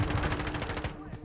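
Rapid automatic gunfire in Call of Duty: Modern Warfare, a dense burst of about a dozen evenly spaced shots over a second, fairly loud and alone.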